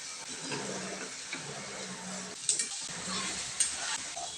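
Paneer and spices with a pinch of turmeric frying in a pan, a soft steady sizzle punctuated by a few sharp clinks and scrapes of a spatula stirring, close but fairly quiet with no talk.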